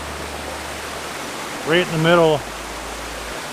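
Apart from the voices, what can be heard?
waterfall and flowing stream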